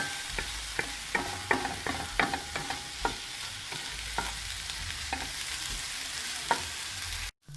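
Onions sizzle steadily in a pan with white wine while a spoon stirs them in repeated scraping knocks, loud and close, with no one speaking.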